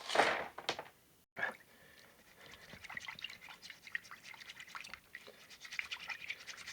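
Polished agate stones poured into a bucket make a bright clattering rush at the start, then scattered light clicks and trickling rattles of stones settling continue faintly.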